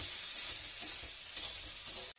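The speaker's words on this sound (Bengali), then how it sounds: "মা হালকা করে জল দিয়ে দিল" Water splashed into hot oil in a cooking pan with onion and chilli, giving a continuous close hiss and crackle that runs steadily and cuts off abruptly at the end.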